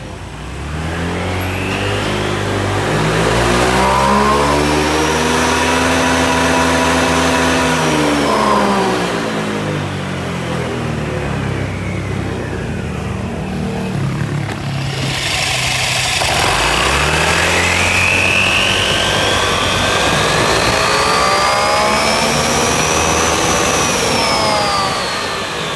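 A 2017 Honda Vario 125i scooter engine with a rebuilt transmission revs up and down in long sweeps, loud and close, whining to a high pitch, easing back, then climbing again.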